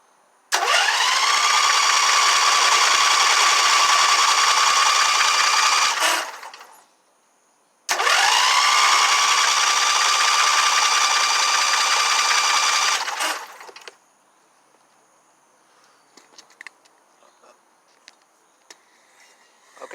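Husqvarna YTH2348 lawn tractor engine spun over after a rebuild with the flywheel torqued, heard as two long, loud, steady whirring cranking bursts separated by a short pause, followed by faint clicks and handling noises.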